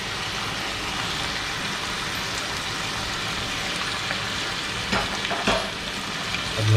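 Spices hit a hot pan of chicken jalfrezi, a steady crackling sizzle with a few sharp clinks and stirring scrapes toward the end, no talking.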